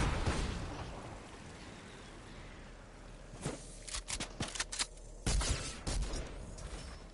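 Gunfire in the Fortnite video game, a burst of several sharp shots around the middle, then another cluster of loud reports near the end, over a dull ambient rumble.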